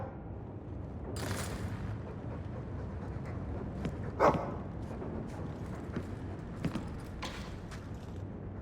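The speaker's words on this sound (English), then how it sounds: "That's a good dog." A dog in the video game Dragon Age gives a few short barks and pants amid low ambient game noise, the sounds sporadic and moderately near.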